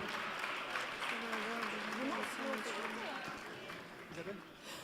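Audience applause approving a values charter at a political party's founding congress: a steady broadband clatter of many hands lasting several seconds, with a speaking voice running over it.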